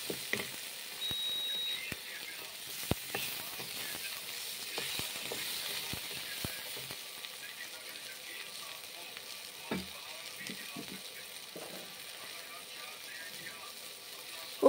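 Spatula (khunti) scraping and stirring food in a pan at close range, with steady frying sizzle underneath and repeated sharp clicks and scrapes of metal against the pan throughout.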